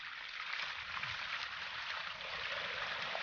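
Steady rushing water flows continuously at close range, a bright hissy stream with no pauses and no talking.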